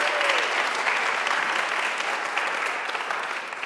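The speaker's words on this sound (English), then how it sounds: "Big round of applause for them," Audience at a psychology and music event applauding, a dense, steady wash of clapping from many hands that fades slightly near the end.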